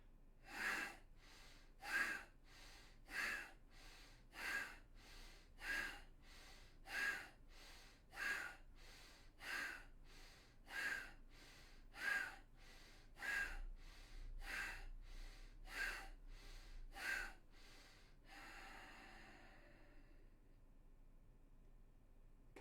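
Breathing during a pranayama practice, with about fifteen evenly spaced soft, airy breaths repeating roughly every 1.3 seconds, close and alone, ending in a longer, steadier exhale.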